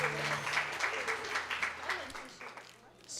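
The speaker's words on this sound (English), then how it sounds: "give a round of applause" A small gathering claps to welcome newcomers at a spiritual talk, a brief patter of applause that thins out, with people speaking over it.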